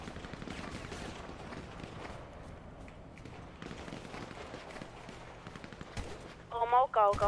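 Rapid bursts of video game gunfire crackle continuously in the background, with a voice briefly speaking near the end.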